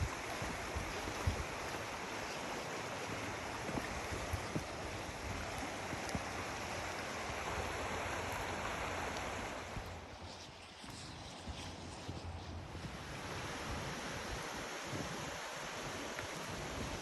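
Creek water rushes and babbles steadily near a bridge, a continuous broadband flow that dips briefly quieter midway before returning, with some wind noise on the microphone.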